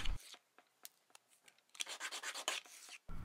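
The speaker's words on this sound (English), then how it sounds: "I then use sandpaper to finish off the rough edges from the cuts." Sandpaper rubs the rough cut ends of small standoffs for a tricopter build, first in scattered light strokes and then in a quick, close series of scratchy back-and-forth passes.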